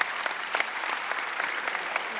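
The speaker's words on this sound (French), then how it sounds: "applaudissements pour ADT International" Audience applause at a business general assembly, a steady patter of many hands clapping in a hall, moderately loud and continuous for a couple of seconds with no talk over it.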